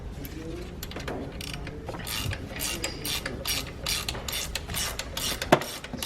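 Ratchet clicking as it tightens the serpentine belt tensioner on a Mitsubishi Mirage, a steady run of fast mechanical clicks from close by with light workshop noise and no talk.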